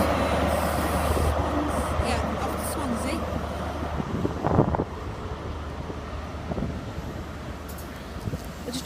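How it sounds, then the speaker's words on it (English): Train passing through Newport station on the South Wales Main Line, a steady rumbling roll heard close with heavy wind buffeting the microphone, easing slightly toward the end. "There's a train coming through here"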